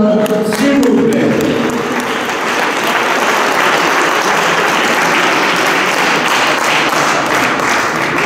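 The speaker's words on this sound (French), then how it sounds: "Je voudrais qu'on applaudisse ces deux championnes, s'il vous plaît." Sustained applause from a boxing crowd at a WBA Intercontinental welterweight title bout, dense clapping throughout with a brief voice near the start.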